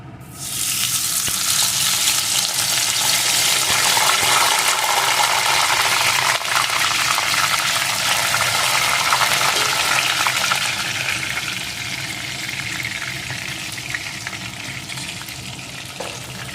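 Steamed potato pieces fry in hot mustard oil in a wok with a loud, dense, crackling sizzle that starts abruptly and stays steady, easing slightly toward the end, close up with no speech.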